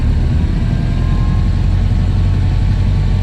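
A Ford Model A engine pulls up a hill in second gear at about 25 mph, a steady, loud low rumble that drones on without strain.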